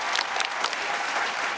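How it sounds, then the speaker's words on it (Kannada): A studio audience at a Kannada television comedy show claps together in a dense, steady burst of applause, loud and continuous for a short moment with no speech over it. "ನಿಮ್ಗೊಂದು ದೊಡ್ಡ ಚಪ್ಪಾಳೆ ಬರಲೇಬೇಕು"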